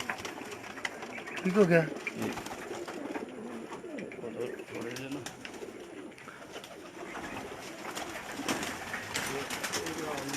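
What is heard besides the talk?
Teddy pigeons cooing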